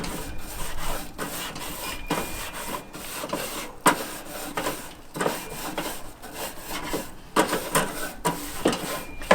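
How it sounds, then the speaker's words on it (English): A barbecue grill grate is scrubbed, with steady rhythmic rasping strokes of a brush over metal, close and continuous for the whole stretch. "We'll also go ahead and clean our grill."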